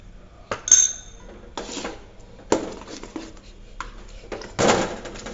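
A spoon stirs egg batter for macaroni schotel in a bowl, giving a string of irregular clinks and soft scraping knocks against the bowl, close and fairly quiet, with no talking.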